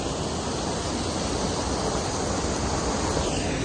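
Steady, loud rush of a waterfall spilling into a pool along the Kennebec River, a dense broadband roar that holds constant throughout with no breaks.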